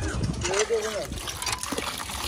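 Water gushing strongly from a tap, a continuous splashing rush with faint voices underneath.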